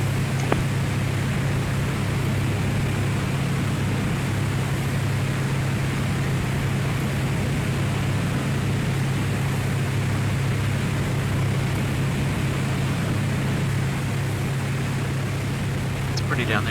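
An aircraft in X-Plane 11 on approach to runway 24 at Edinburgh, flying from Newcastle, drones with a steady, loud engine hum and broadband airflow noise that barely changes throughout. Faint radio-style talk may sit underneath.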